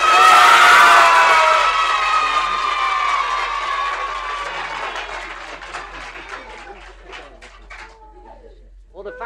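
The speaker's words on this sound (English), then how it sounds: "Now let me hear your applause for the Biltong team." Audience at a comedy stage show cheers, whoops and applauds for the Biltong team, loud and dense at first, then thinning out over several seconds with scattered claps trailing off near the end.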